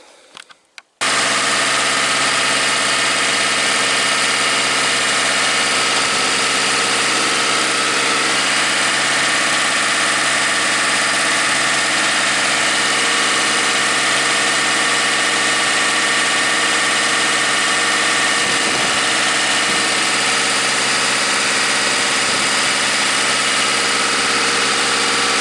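An older diesel car engine starts and then idles steadily for a long stretch, a loud, close, continuous rumble with a rattly texture and no talk.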